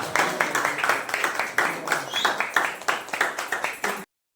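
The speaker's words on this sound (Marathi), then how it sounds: "टाळ्या टाळ्या होत जाऊ द्या." Applause from a crowd at a women's cricket team-selection gathering, a steady run of dense hand clapping that lasts about four seconds and then stops abruptly.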